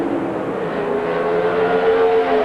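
Drag racing cars at the 1991 NHRA Mopar Parts Mile-High Nationals launch together down the strip, a loud, sustained engine roar that swells steadily as they pull away.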